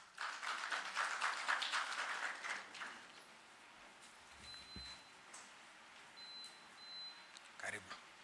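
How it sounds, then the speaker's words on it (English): A round of applause at a Kisumu business summit as a speaker comes up, clapping strongest at first and fading within three seconds, followed by quieter room noise, a few faint beeps and a late knock. "One more round of applause as she comes"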